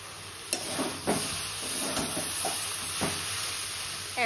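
Cabbage cooks in a hot pan with a steady sizzle, broken by a few scraping stirs and light clatters of the utensil against the pan.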